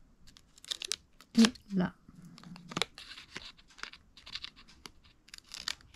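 Paper being cut by hand for a junk journal, crisp snips and papery crinkles and rustles scattered over several seconds, close up, with someone speaking briefly in between.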